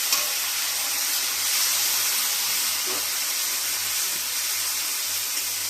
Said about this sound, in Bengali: পেঁয়াজটা ভালো মতন ভাজা হয়ে গেছে। এবারে দিয়ে দেবো টমেটো কাটা।